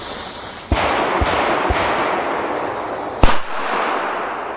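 A Donnerschlag firecracker goes off with one loud, sharp bang, preceded by several smaller cracks, all over a constant broadband hiss at a fireworks event.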